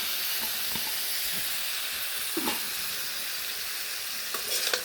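Pieces of cut bottle gourd and potato frying in oil and spices in a pan, giving a steady close sizzle and hiss with occasional soft stirring clinks and scrapes.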